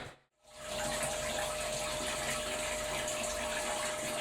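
Sparge water drains through a bed of malted grain during home brewing, a steady close rushing trickle of liquid that swells in after a brief quiet start and continues without a break.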